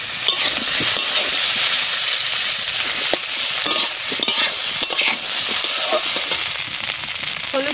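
Taro pieces frying in a pan of hot oil with cumin seeds and bay leaves, giving a loud, steady sizzle with scraping stirs throughout and no voices.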